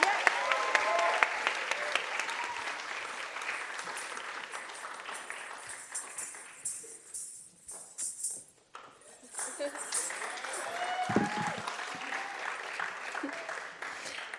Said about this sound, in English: Bigger round of applause for you